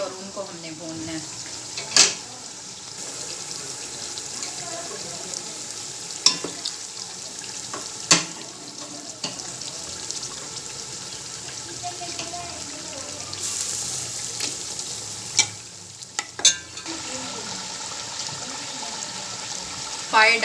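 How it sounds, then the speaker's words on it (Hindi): Boiled beef trotter pieces for paya fry in a pot, a low continuous sizzle broken by scattered clinks and scraping stirs, with someone talking over it at times. "अब जो हमारे बॉईल किए हुए पाए हैं ये हम बोटियां डाल के भूनेंगे"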